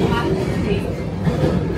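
Santragachi to Puri passenger train running along the line, a steady, loud rumble of rolling wagons that fills the whole moment without breaks.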